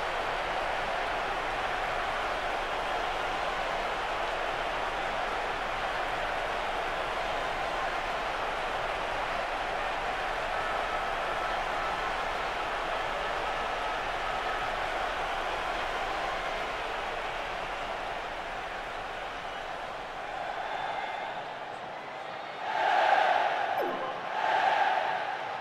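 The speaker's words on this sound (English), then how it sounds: "The crowd not really hiding their disappointment." Steady crowd murmur from a football stadium in the PC game PES2009, with Portsmouth playing Hull City, droning on as a broad, even roar for the whole stretch before two brief louder swells near the end.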